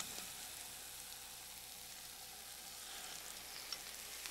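Halved tomatoes laid cut side down in a pan of melted butter, giving a steady, faint, even sizzle with no voices throughout.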